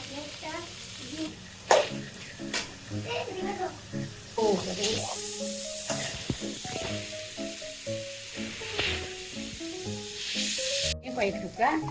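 Cauliflower pieces frying and sizzling in a pan with salt and turmeric, a steady crackling hiss broken by stirring clinks and scrapes, while a voice talks over the cooking.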